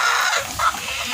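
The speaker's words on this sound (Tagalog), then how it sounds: "manok yan" Chickens clucking on a rural farm, a short burst of close, busy fowl calls over a steady background hum, with no one talking.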